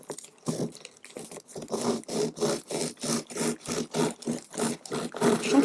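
Serrated knife sawing through a croissant, a close, steady run of rhythmic rasping strokes, roughly a dozen back-and-forth cuts with a crisp crunch of flaky pastry, heard alone without talk.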